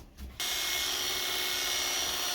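A vacuum cleaner starts during a home haircut and runs as a loud, steady whine-and-rush of air that continues unbroken to the end, with a brief quieter moment before it kicks on.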